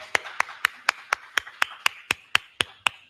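At a panel event, a single pair of hands claps about a dozen times in a slow, even rhythm, each crisp, separate clap close and distinct against a quiet room.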